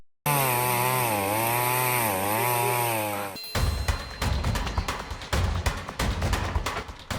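A video game chainsaw engine drones loudly and steadily for about three seconds, its pitch wavering, then cuts off into a rough, choppy stretch of rasping, clattering bursts.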